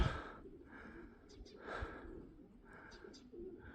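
Pigeons in a fancier's loft give soft, low, repeated coos at a near, modest level over a faint background rustle.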